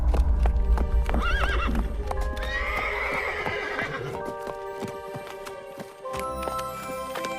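Horse hooves clip-clop steadily at close range while a horse gives a loud neigh and whinny, set under a background music bed in a Hindi horror story podcast.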